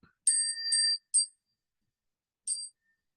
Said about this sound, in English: just let me grab my bell